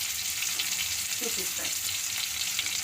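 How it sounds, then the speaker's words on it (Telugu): Cut tomatoes and a little tamarind fry in oil for pulihora, giving a steady, close, dense sizzle with faint shifting crackles and no talking. "వాటిని కూడా కట్ చేసుకొని నూనెలో కొంచెం వేయించుకోవాలి"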